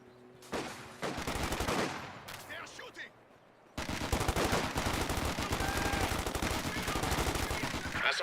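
Gunfire crackles in a Company of Heroes 2 battle, with an MG42 machine gun advancing on a capture point: a short opening burst, then a pause before dense, sustained rapid fire that runs loud to the end.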